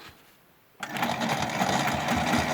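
After a quiet pause, a sewing machine starts up abruptly and runs in a fast, steady whir of needle strokes for free-motion quilting a spider's web pattern. The sound is close and continuous.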